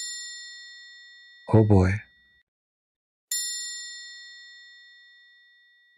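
A metallic bell struck twice, each hit ringing out with a bright, long decaying tone, the two strikes separated by a brief spoken exclamation.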